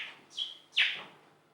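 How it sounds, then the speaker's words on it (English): A falcon's call, two sharp, clear chirps about half a second apart, the second louder, close and alone against a quiet background. "Then she whistled, and a blue falcon flew down."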